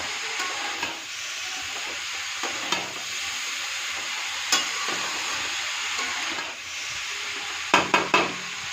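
Bottle gourd sizzles and fries in a pan while being stirred, a steady hiss with soft scraping and a few sharp utensil knocks near the end, close and without talk.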